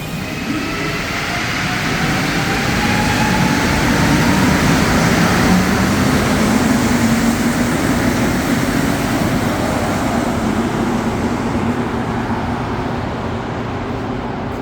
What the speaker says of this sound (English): I'll get a nice shot of the train departing